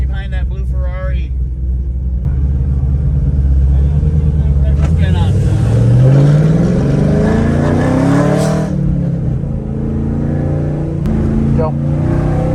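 A bolt-on modified Camaro roars around a race track chasing a blue Ferrari, its engine rumbling and revving loudly and continuously through shifting pitch while people talk over it inside the car.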